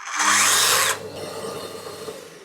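Cordless Domino joiner motor switched on for under a second, a loud high whirring burst that cuts off abruptly and leaves quiet room noise.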